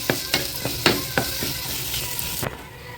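Grated coconut is sautéed in a hot pan for a mustard and urad dal chutney, with a soft sizzle and several sharp scraping strokes of the spatula, close up, before the sound drops away.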